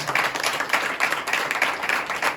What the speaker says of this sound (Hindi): अपने खादिम के लिए ताली बजाइए